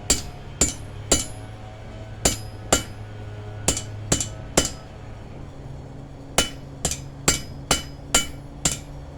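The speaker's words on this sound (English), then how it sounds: "While this is still hot, I can hammer that flat." Sharp metallic hammer strikes on hot metal over an anvil, forging a holdfast, ring out in irregular bursts, some single, some in quick runs of three or four, with a faint hum between.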